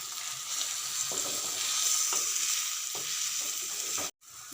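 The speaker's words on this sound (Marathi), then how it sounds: "कांदा आणि टोमॅटो छान फ्राय झाला आहे यामध्ये घालूया धना पावडर" Onion, tomato and spices fry in a pan for misal, a steady bright sizzle with soft periodic scrapes of a spoon stirring, cut by a brief silent gap near the end.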